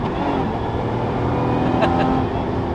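A Lotus Emira's engine drones loudly through a Milltek exhaust, rough and throaty, holding high revs close by on a track with slight shifts in pitch.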